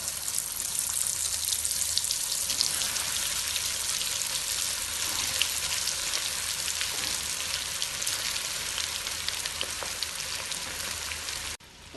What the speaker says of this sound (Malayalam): ഇനി ഈ ചിക്കൻ കഷ്ണങ്ങളിൽ നിന്ന് ഓരോന്നായി എടുത്ത് എണ്ണയിലേക്കിട്ട്